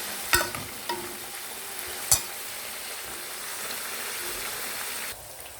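Onions frying to a light golden colour in a pan, a continuous soft sizzle with a few sharp utensil scrapes and knocks as they are stirred, no voices.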